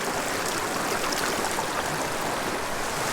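Creek water rushing steadily where two branches of a mountain stream rejoin beside a good-sized pool at a tenkara fly-fishing spot, a broad continuous close wash with no talking.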